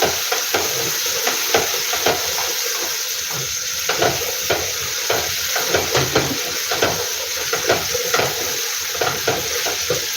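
Tomatoes frying for a mixed vegetable dish, giving a continuous loud sizzle and hiss with regular scraping stirs of a utensil in the pan every second or so, close up and with no voices.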